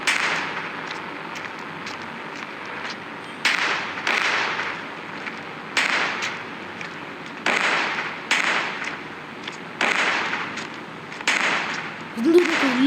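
Gunfire in the Indian Bikes Driving 3D video game, during a city attack by Godzilla: a steady series of sharp, loud bursts repeating every second or two over a continuous background din.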